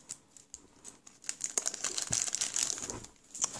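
A parcel of stickers is torn and crinkled open by hand, with close, quiet bursts of paper and plastic rustling and tearing that build in the middle.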